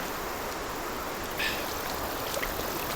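River water rushing over rocks and boulders, a constant close broadband roar of flowing current filling the whole stretch with no talking.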